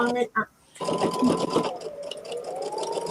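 A home sewing machine stitches quilt quarter triangles, a steady mechanical whir running close and fairly loud after a brief pause, with background sounds in the first moment.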